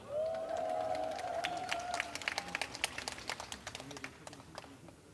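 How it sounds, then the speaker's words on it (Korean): At a candlelight rally at Seoul National University, a crowd breaks into scattered clapping that grows into brisk applause, preceded by a sustained tone, with the claps fairly distant and moderate. "큰 박수 부탁드리겠습니다."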